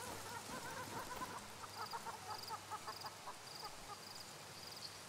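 Birds calling in the fishing game Call of the Wild: The Angler, a series of faint, short repeated chirps and clucking notes over a quiet outdoor ambience.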